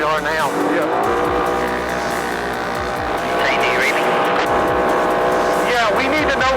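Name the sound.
Mint 400 off-road race car driven hard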